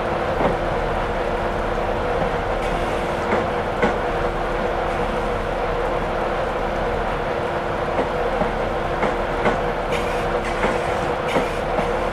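A Class 91 high-speed electric train runs out of London King's Cross toward Stevenage, heard from on board as a steady rumbling roar with regular clickety-clack of wheels over rail joints throughout.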